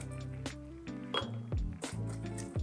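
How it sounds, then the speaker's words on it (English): Ice cubes clink and rattle into a chilled martini glass from an ice bucket while an espresso martini with rum is prepared, a series of close, bright glassy chinks and knocks. "you wanna add ice from our ice bucket"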